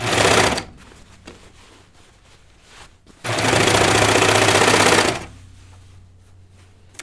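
A sewing machine runs in two loud, steady bursts while stitching pull-on jeans. The first burst is short and the second lasts about two seconds, with quieter handling noise in the gaps.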